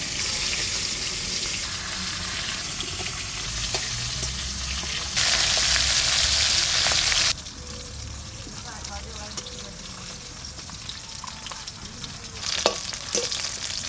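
Koi fish frying in a pan sizzles with a steady crackling hiss throughout, getting louder for a few seconds in the middle. Scattered clinks and some faint background sounds come in near the end.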